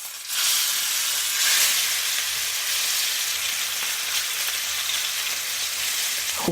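A steak sizzles in hot oil in a pan, a steady loud hiss that swells as the meat goes in and then holds, with no voices over it.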